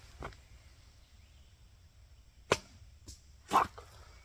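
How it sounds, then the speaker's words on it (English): Arrow shot from a bow during an outdoor airsoft outing, a few sharp brief snaps and thwacks spread over several seconds against a quiet background. "Let me show you how precise I can be with this bow and arrow."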